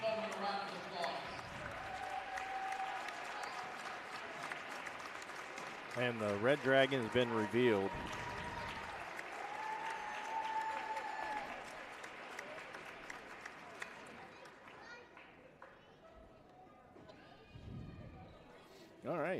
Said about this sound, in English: Let's stand and give both the St. Albans girls cheerleaders and our lone senior for the basketball team, Katie Bowman, a round of applause